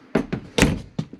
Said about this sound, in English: Close our bathroom door